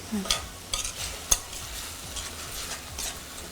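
Onions fry in a pan for a prawn and egg curry, with a low steady sizzle broken by a few sharp spoon strokes and scrapes, close by and with no voices.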